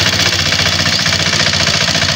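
A kuliglig hand tractor engine runs steadily in a rice field, a loud close chugging drone with a fast rhythmic knock and no pauses.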